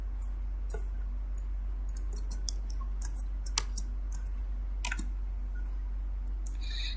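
Keys clicked on a computer keyboard while entering a Cisco banner MOTD command, sharp irregular taps in quick bursts over a low steady hum, close and alone.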